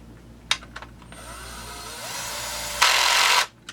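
A power driver spins four coarse-thread screws into a Husqvarna 346xp chainsaw during a rebuild, heard as a few short whirring bursts close by and ending in one longer, louder run, with no talk.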